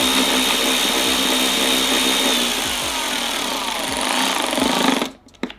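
A Milwaukee 2567-22 3/8-inch cordless ratchet runs a bolt down in a continuous loud whirring buzz for about five seconds, then stops abruptly, followed by a faint click.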